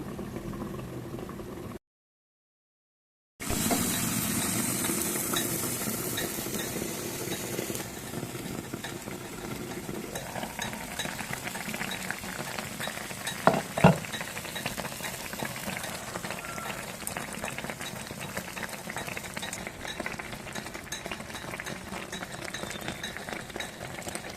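Okra curry simmers under a lid in a covered pot, a soft steady bubbling hiss that holds evenly at low level after a brief silence, with a couple of faint clinks partway through.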